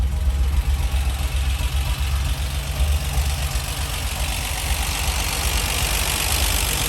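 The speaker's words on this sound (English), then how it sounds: "quick video of starting up and running on this Scimitar SE5a manual overdrive" A Reliant Scimitar GTE SE5a with manual overdrive idles warm, its engine giving a steady, loud low rumble with a slight ticking texture that runs unbroken throughout.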